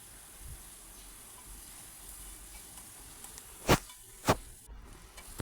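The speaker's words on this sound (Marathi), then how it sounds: "टोमॅटो आणि कांदा मी चांगला परतून घेतला।" Chopped onion and tomato sauté in hot oil for a ridge gourd rasbhaji, giving a faint, steady sizzle with two brief louder clicks of stirring near the end.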